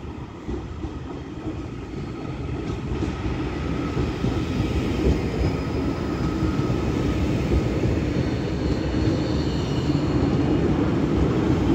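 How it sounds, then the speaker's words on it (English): A Northern class 331 electric train arriving at Manchester Airport, a steady broad rumble and rush of wheels and motors that holds close and loud throughout, with no voices over it. "And now coming in is a Northern 331 from Manchester Piccadilly to Crewe."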